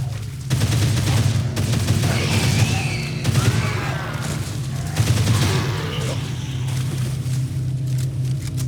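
Rapid gunfire rattles continuously in Dead Island: Riptide over a deep droning rumble, the shots blending into a dense, sustained volley.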